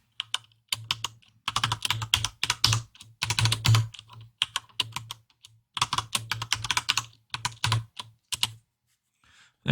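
Keys clatter on a computer keyboard in quick bursts of typing separated by short pauses, close and clear, with no voices.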